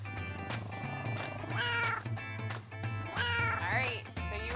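Cats at an animal shelter meow in a couple of close, drawn-out calls, heard over a steady, pulsing low background beat.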